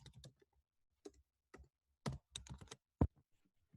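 Python code is typed on a computer keyboard in a classroom lab, coming through as quiet, irregular clusters of key clicks with short gaps between them, fairly faint and with no talking.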